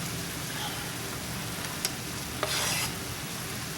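Chopped bacon sizzling in a pan of cooking Romano beans, a steady moderate hiss with a brief stir and a short burst of louder sizzling late on.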